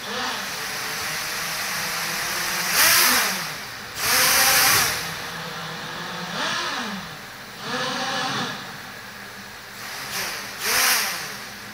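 Four metal Bugs 3 brushless motors fitted to an MJX Bugs quadcopter whine close by, repeatedly surging in pitch and loudness as throttle is applied, with the craft failing to lift off.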